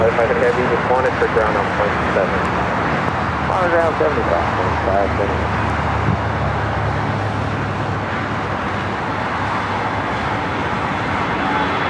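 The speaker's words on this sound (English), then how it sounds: "That's Swiss Flight 40 coming in from Zurich, that 777-300 ER" A Swiss Boeing 777-300ER arriving from Zurich at Los Angeles airport, its steady broad jet roar holding throughout under continuous nearby talk.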